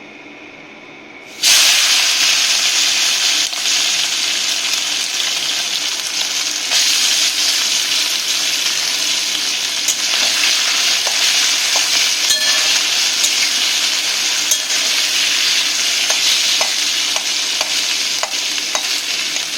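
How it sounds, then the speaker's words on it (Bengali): Small mourala fish lightly frying in hot oil: a loud, close hiss and crackle bursts up after a brief quiet start and then holds steady, with occasional sharp pops and stirring, no voices. "এই মৌরলা মাছ এগুলোকে আমি একটু হালকা করে ভেজে নেবো"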